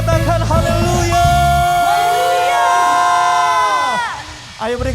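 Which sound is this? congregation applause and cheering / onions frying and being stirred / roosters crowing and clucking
congregation applause and cheering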